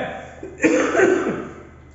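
A single harsh cough close to the microphone, rough and throaty, fading out after about a second.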